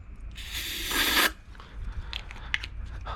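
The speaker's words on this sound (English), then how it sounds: "Spray a good amount up in there." A loud, steady hiss of aerosol spray into the carburetor of a 1936 Johnson Seahorse Model 200 outboard motor bursts for about a second, then cuts off, leaving faint mechanical clicks and rustling.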